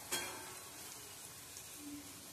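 Turmeric sautés in hot oil in a tempering pan, a quiet continuous sizzle after a brief clink at the start, with no talk.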